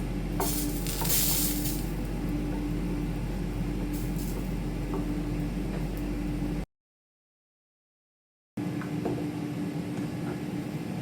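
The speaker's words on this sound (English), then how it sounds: "Give it a really good stir." Chicken and vegetable pie filling stirred in a pan, a continuous broadband sizzle and scraping over a steady hum, broken by a stretch of total silence before the stirring picks up again.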